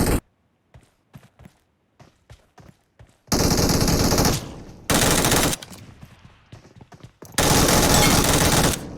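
Gunfire in the battle royale game PUBG: scattered single shots and short bursts early on, then loud sustained automatic fire in three long stretches, close and dominant with no talk.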